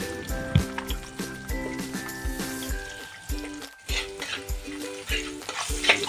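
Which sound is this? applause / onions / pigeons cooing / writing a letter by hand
onions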